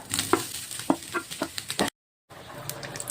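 Sliced nendran plantain fries in ghee in a pan with a soft, close sizzle, punctuated by sharp spatula taps and scrapes at an irregular rhythm, broken by a brief moment of silence.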